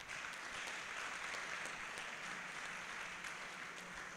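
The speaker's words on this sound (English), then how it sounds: "Please give a round of applause for them." A round of applause at a developers bootcamp final-day award ceremony as the second runner-up is named. It is a faint, distant, steady wash of clapping with no talk over it.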